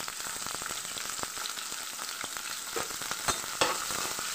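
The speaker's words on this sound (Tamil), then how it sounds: "கொஞ்சம் ஆய் ஊற்றிக்கலாங்க ஃப்ரெண்ட்ஸ். வெங்காயம் போட்டுக்கலாங்க ஃப்ரெண்ட்ஸ்." Chopped onions fry in hot oil for potato kara kuzhambu, giving a steady close sizzle with quick crackles and a few sharper spits. Nobody speaks.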